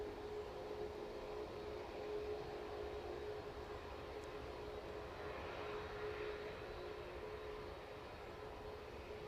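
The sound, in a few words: aircraft landing and braking at East Midlands Airport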